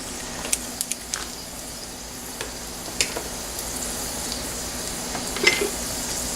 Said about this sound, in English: Instead of a spatula, I'm going to go ahead and just kind of use a little spoon here. Toss it around your pan.